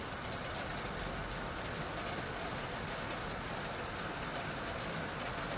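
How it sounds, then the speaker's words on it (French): Heavy thunderstorm rain arriving in Mirande on a September morning, a dense, steady hiss of downpour filling the whole clip at moderate level, with faint traffic rumble underneath and no speech. "Forte pluie orageuse, donc là qui arrive, très très forte pluie."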